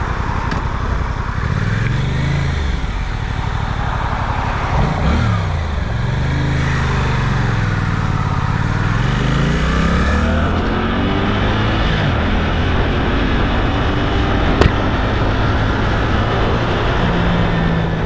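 A Suzuki GSX-8R motorcycle idles, then pulls away from a traffic light, its engine rising through several gear changes in rolling up-and-down sweeps, loud and close, with steady wind rush behind it.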